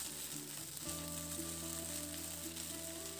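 Okra frying in mustard oil in a pan for a spicy dry okra and potato curry gives a faint, steady sizzle under a low, constant hum.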